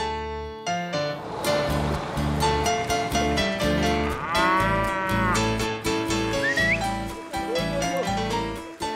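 Several cows moo loudly and at length, with deep, drawn-out calls overlapping one another, close by and with no talking.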